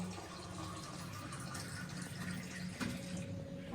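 Water poured into a cooking pot in a home kitchen, a steady broadband splashing and trickling stream running continuously at moderate level, close by, with no talking over it.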